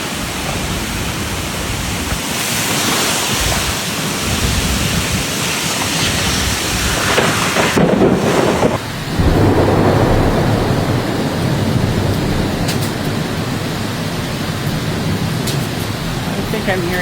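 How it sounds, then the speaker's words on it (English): Hail pelting down during a thunderstorm in Ottawa makes a dense, steady, loud hiss of ice striking surfaces, with a few sharper impacts later on and no clear voices. "I'm hearing hail."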